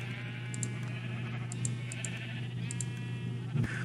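Sheep in the Minecraft game bleat several times in short, repeated calls over a steady low background hum, with a soft thump near the end.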